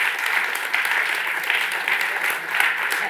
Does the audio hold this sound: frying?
no